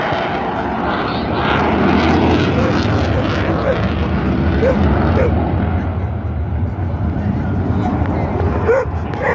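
A Eurofighter Typhoon jet roars through a flying display at an airshow, a loud, broad rumbling thunder from afterburner power that swells and holds, with a commentator talking over it and a dog barking nearby.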